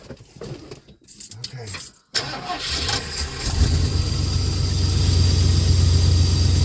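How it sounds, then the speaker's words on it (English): An engine fitted with an Edelbrock carburetor cold-starts after a few seconds of key clicks and cranking, catching into a loud, rough, steady idle, with someone speaking briefly at the start. "Oh yeah, that's a good cold start."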